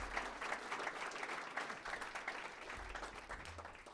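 A crowd applauds steadily at the grand opening of a children and youth service center, a dense, even wash of clapping heard from some distance at low volume.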